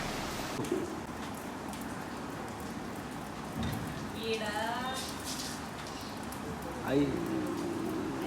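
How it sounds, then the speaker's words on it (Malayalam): Steady rain patters down on surfaces nearby, a constant hiss with voices talking briefly in the middle and near the end. "പെട്ടെന്നൊരു ഇല്ലാത്തൊരു മഴ"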